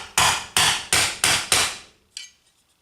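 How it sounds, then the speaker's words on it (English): Five loud, evenly spaced hammer blows strike a wooden block set against a part of a Pump It Up SX arcade dance machine during repair, each a sharp crack with a short decay, followed by a fainter knock. "I'm using this block of wood here to kind of protect from the hammer so it doesn't leave marks on this"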